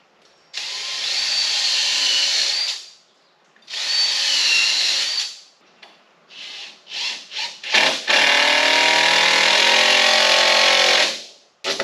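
A power drill drives screws into a shop shelf during installation, several whining bursts of a few seconds each, then short stuttering pulses and one long sustained run, loud and close.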